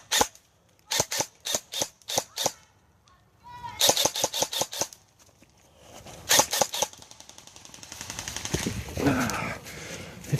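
Two people shoot new airsoft rifles outdoors, with rapid bursts of sharp snapping shots, single pops and quick volleys, some sounding near and loud, followed by a longer rattling run of fire under scattered excited voices.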